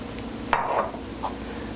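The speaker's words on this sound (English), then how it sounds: "Mix it together a bit. And at the same time, when you move this around, try and loosen up the fond that's at the bottom of the pan." A brief scrape of a utensil stirring turkey wing pan juices to loosen the fond, one short swish followed by a fainter second one, alone over a soft steady hiss.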